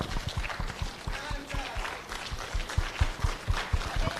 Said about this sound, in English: Ladies and gentlemen, put your hands together for Mr. Bright